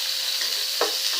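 Onion sizzling in a frying pan for a vegetable dish, a steady hiss with a brief louder crackle as the onion goes in, close and alone with no voices.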